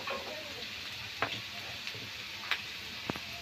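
Onion and green chili sizzle in hot oil with turmeric for kanda pohe, a close, steady frying hiss broken by a few sharp clicks of stirring; no voices.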